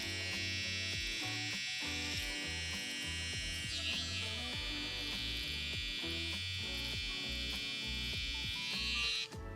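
Electric hair clippers cutting lines in a freestyle haircut design give a close, continuous buzzing whine with small shifts in pitch as the blade moves, no speech.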